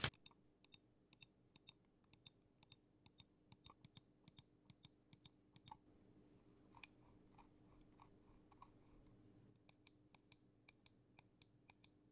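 Crisp, sharp button clicks from an EvoFox Phantom Pro gaming mouse come in a steady run of near, evenly spaced snaps, pause briefly for a few softer taps, then resume.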